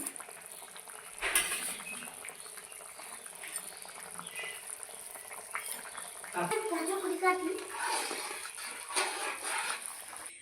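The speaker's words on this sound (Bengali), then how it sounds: "ফুলকপি আমার আর প্রায় সিদ্ধ হয়ে আসছে তো টকবক করে ফুটে উঠেছে ঝোল" Curry broth with cauliflower and pangas fish bubbling at a steady boil in a pot, a continuous close watery burble that swells in the second half while a voice talks over it.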